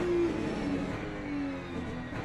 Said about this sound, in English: Have I made the engine too loud